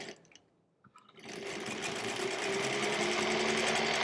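Sewing machine stitching rows of quilt blocks, starting after a brief quiet pause and then running as a steady, close, continuous whirring hum that builds slightly and holds to the end.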